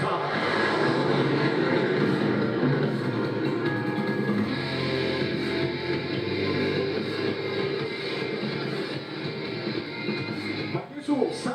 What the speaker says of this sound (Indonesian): Menyusul satu pesawat lagi dari arah belakang podium.